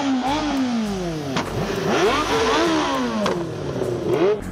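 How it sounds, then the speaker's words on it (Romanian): A motorcycle engine is revved while its exhaust is deliberately made to pop and backfire, with rising and falling engine sweeps broken by several sharp cracks, close and fairly loud. "O să vă arăt ce înseamnă să faci poc"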